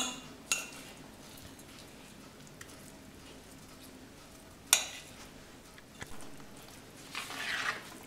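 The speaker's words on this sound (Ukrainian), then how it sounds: "Змішуємо сирну масу з маком." Cheese mass being mixed with poppy seeds using a utensil in a bowl gives faint scraping and stirring under quiet room noise, with a few sharp clinks and a brief louder rustle near the end.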